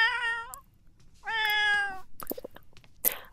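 A cat in the video game The Sims 4 meows twice, a clear close meow followed by a second drawn-out one, then a few soft clicks and a brief higher squeak.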